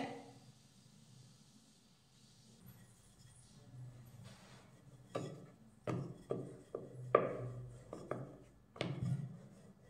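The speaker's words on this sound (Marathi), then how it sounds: "आता हे पिठामध्ये बुडवून ह्याची छान अशी पोळी लाटून घेऊयात।" Soft rubbing and scraping of a rolling pin on flour-dusted flatbread dough, building into a series of irregular knocks and taps near the end, with no talking.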